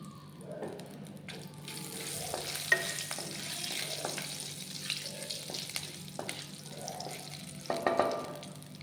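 Cumin seeds and cloves fry in oil in a pan for paneer butter masala, giving a soft steady sizzle broken by repeated spoon scrapes and clinks against the pan.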